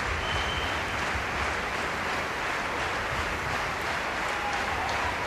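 Sustained, loud, dense applause from a large audience at the 1995 British Open Professional Latin Dance Championships in Blackpool, steady throughout without pause.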